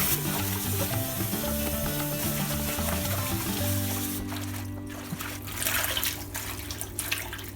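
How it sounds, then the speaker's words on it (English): Water pours into a pot of cooking collard greens, a steady rush and trickle over a continuous sizzle and bubbling, close and loud with no talking. "Add a little bit more water."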